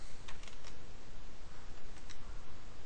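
Keys on a TI-83/84 graphing calculator are pressed in a few scattered light clicks, almost buried under a loud, dense broadband hiss.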